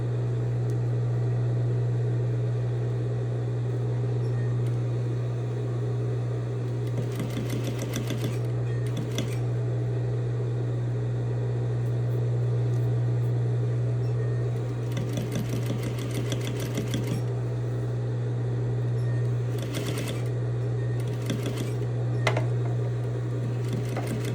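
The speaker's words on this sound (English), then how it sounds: "I am stitching on the bias side about 1/8 of an inch away from the edge" Sewing machine stitching bias tape about an eighth of an inch from the edge, a steady droning motor hum with brief bursts of rapid needle clatter in short runs, close and continuous, no talking.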